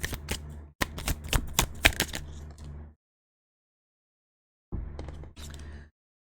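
Tarot cards shuffled in bursts of crisp riffling and flicking, close and fairly loud for about three seconds, then a pause of silence before a shorter second round of shuffling.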